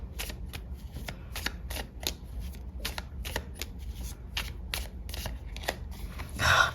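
Tarot cards are shuffled and pulled during a love reading, with a fast run of crisp riffling flicks and slaps up close, ending in a brief louder rustle.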